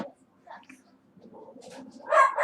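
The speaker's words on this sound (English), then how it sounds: "Apologies about the dog." A dog in the room barks and whines in short bursts, faint at first and then louder near the end, during a beer tasting, with soft background noise in between.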